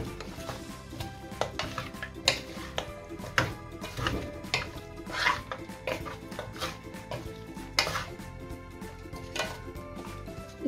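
Lamb pieces stirred with garam masala and spices in a pot for cauliflower and lamb curry, repeated spoon scrapes and clinks against the metal over a faint sizzle, close and busy throughout.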